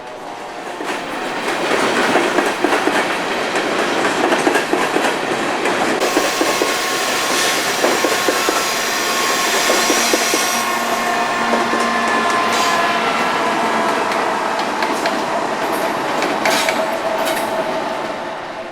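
A long freight coal train rolls steadily past close by for nearly twenty seconds, its wheels clattering in a continuous rhythmic clickety-clack over the rails amid a loud mechanical rumble, with no talk.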